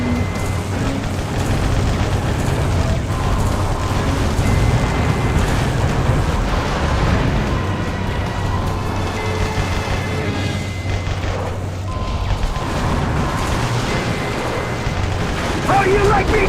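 Heavy explosions in Metal Wolf Chaos XD as the Alcatraz cannon is destroyed: a sustained, loud roar of booming blasts and rumbling detonations that runs continuously over a low, droning background.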